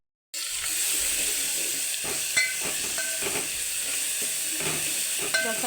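Onion, ginger and garlic fry with cumin in hot oil, giving a steady, close sizzle that fills the whole stretch, with scattered clinks and stirring sounds on top.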